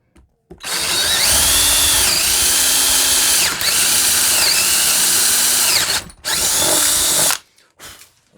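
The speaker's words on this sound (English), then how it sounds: "I'm gonna drill through this" A power drill with a drill bit drills through a workpiece in a loud, close, continuous whine that dips and recovers as it bites, stops briefly, then runs again for another short burst.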